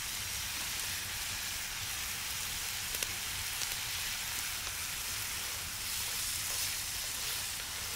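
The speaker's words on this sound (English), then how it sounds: "We sear them for 2 minutes until they get nice and caramelized" Hot dogs searing with sugar in a hot pan, a steady, even crackling sizzle that holds at a constant level throughout with only faint scattered pops.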